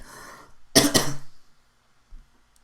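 Two harsh coughs burst out close to the microphone after a moment of faint sound, followed by a short, quieter throat noise.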